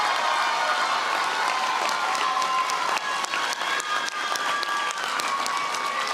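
A graduation ceremony audience breaks into sustained, dense applause, a steady wash of many hands clapping with scattered cheers mixed in, filling the hall at an even loudness throughout.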